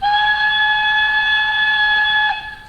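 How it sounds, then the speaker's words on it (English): A high, steady steam whistle from a Accurascale GWR Manor class model locomotive's DCC sound decoder sounds with clean stacked tones, held loud for over two seconds before cutting off. "We got a couple of whistles here then, let's play these."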